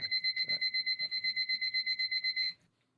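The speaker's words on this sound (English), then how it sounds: "You don't think it's a fire alarm, yo?" An electronic fire alarm beeps rapidly in a steady two-tone pulse, loud and close, for about two and a half seconds before stopping abruptly.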